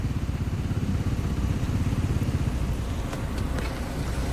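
A motorcycle engine runs steadily on a winter day, a close, loud, even mechanical putter that carries on throughout with a few faint clicks near the end.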